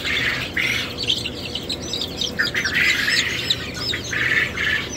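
Newly hatched chicks on a homestead chirp and peep in rapid, overlapping high calls, a busy chorus close by with no pauses.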